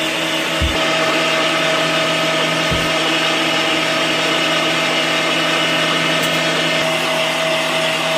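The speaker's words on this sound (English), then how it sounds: "we're going to do a second grind, just a quick grind to make sure all of our seasoning is mixed in well with our meat" An Avan Pacific electric meat grinder runs steadily, grinding chicken and pork for a second pass. The motor holds a loud, constant drone with a couple of brief low thumps near the start.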